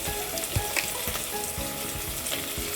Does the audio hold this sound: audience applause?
no